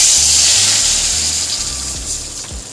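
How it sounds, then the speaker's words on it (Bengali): Water pours steadily from a mug into a cooking pot of taro with dry and Kashmiri chili powders, a loud, continuous close gush and splash that eases slightly toward the end, with no speech. "দিয়ে দেবো পরিমাণ মতন জল।"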